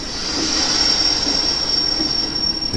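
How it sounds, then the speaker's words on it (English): A Penn Central model railroad train runs steadily around a layout with a sustained, high metallic wheel squeal over a soft rolling rumble, close and even throughout, with no voices. "While the Penn Central train continuously runs, I bring in a Kingsport and Western freight from the Mayfield branch"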